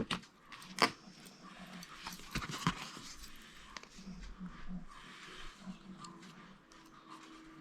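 Neighbourhood dogs bark in a scattered mix of sharp yaps and short bursts at varying distances, mingled with jangling and small scuffling noises.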